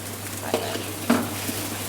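Chinese sausage cooking in water in a pan gives a steady low bubbling simmer, with two brief stirring or scraping knocks standing out close by. No one speaks.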